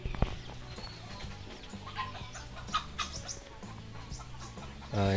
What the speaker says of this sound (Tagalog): Hindi yan, manok yan eh, manok.